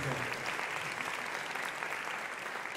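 A concert audience at a big band show gives a musician a sustained round of applause, with even, dense clapping throughout and a voice faintly audible at the start.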